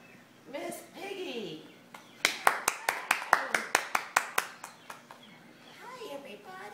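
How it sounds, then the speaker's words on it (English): Clapping for Miss Piggy at a Thanksgiving show comes as a run of about a dozen sharp, evenly spaced claps, loud and close, with a child-like voice talking before and after. "Let's hear a round of applause for Miss Piggy"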